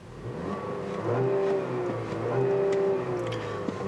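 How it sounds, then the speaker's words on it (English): The 2-liter four-cylinder engine of a 2018 Buick Regal Sportback AWD revs in a couple of rising pulls, a moderate, smooth whir heard from inside the car with no talking. "the engine doesn't really sound super inspiring"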